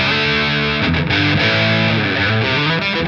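An electric guitar plays through a brightened Helix overdrive/distortion model, giving a loud, continuous, saturated tone with sustained chords and a few quick changes, with no talk.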